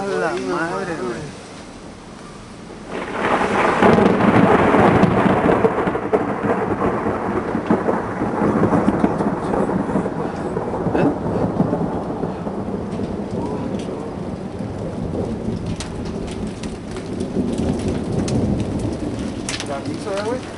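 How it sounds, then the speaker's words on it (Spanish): A hail-laden thunderstorm brings loud, dense pounding rain over a low thunder rumble that swells after a quieter opening and continues steadily for about twenty seconds, with voices briefly audible. "Es como granizo"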